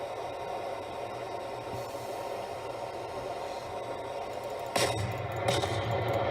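Naval guns fire on a warship in World of Warships: a sharp broadband blast lands near the end over a steady engine and sea hum, followed moments later by a second, weaker report.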